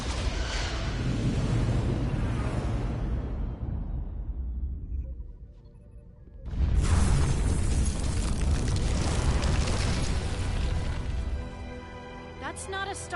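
Starship weapons fire and explosions in the Star Trek Resurgence video game: a long roaring blast fades into near silence, then a second loud burst of explosive rumble and crackle follows, with talk mixed in.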